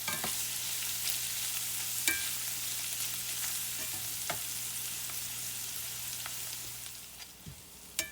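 Sausage frying in a pan, an even moderate sizzle with a low hum and a few sharp pops and scrapes scattered through, fading slightly near the end.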